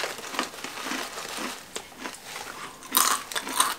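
Crisp bites and crunches of Filipino snacks, including a corn snack, with crinkling packaging between them and a couple of louder sharp crunches near the end, close up and with no talking.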